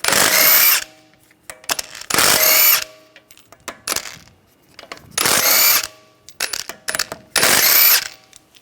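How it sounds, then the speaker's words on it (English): Power tool removing lug bolts from a BMW 328i xDrive wheel, four loud bursts of ratcheting whir spaced by short pauses filled with clicks and handling clatter. "use a 17mm socket, take the lug bolts out"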